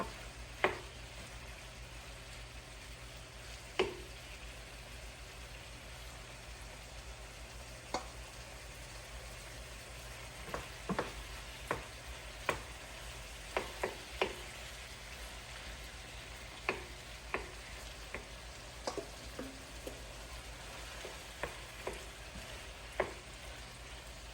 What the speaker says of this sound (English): And then we add the shrimp here, a little bit more shrimp.